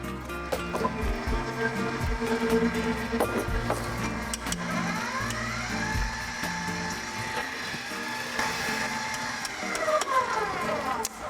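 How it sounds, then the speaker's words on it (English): An electric mixer whisks eggs for sweet Easter egg bagel dough, giving a loud, steady motor whir whose pitch shifts and sweeps as it runs, with no talking over it. "We'll whisk that for a minute."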